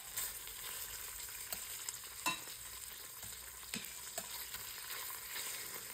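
Mung beans with potato pan-frying in oil, a faint steady sizzle with occasional scrapes and clicks of stirring, no voices.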